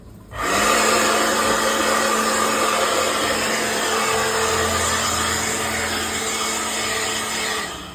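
A steady, loud rush of blown air from a blower drying a commercial ice machine's water tank, with a low motor drone, starting abruptly and running continuously for several seconds before easing off at the end.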